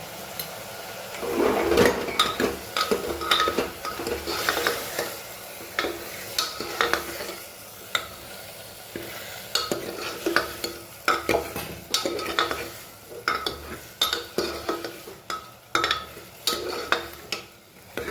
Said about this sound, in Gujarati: બસ ગેસની ફ્લેમ ફૂલ જ રાખીએ, બરાબર મસાલો અંદર મિક્સ થવા દઈએ.